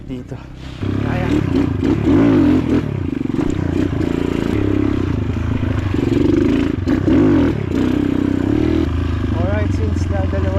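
A motorcycle engine drones loudly and continuously on a rough trail near a blue lagoon, with clattering and scraping over uneven ground and shifts in revs as it climbs.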